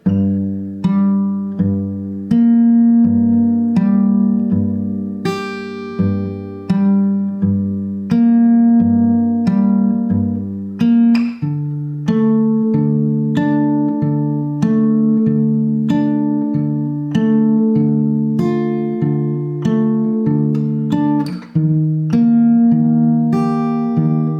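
Guitar notes picked one at a time in a steady, repeating pattern, clear and close, with no voices, playing the bridge of a song.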